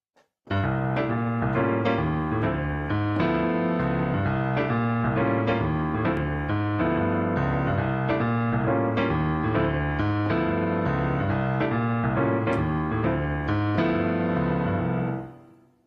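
Solo piano playing a steady walking bass line under repeated chords, a continuous, even-tempo jazz pattern heard clearly throughout.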